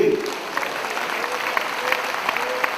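A church congregation claps in praise, a sustained wash of applause with sharper individual claps standing out, while a preacher's voice carries over it.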